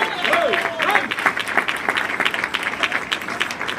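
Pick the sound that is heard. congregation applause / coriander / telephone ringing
congregation applause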